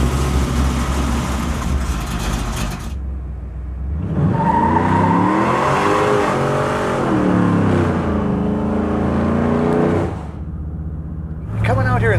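Jay Leno's modified 1955 Buick Roadmaster rumbles, then its engine is revved hard several times, rising and falling loudly up close before settling back toward idle.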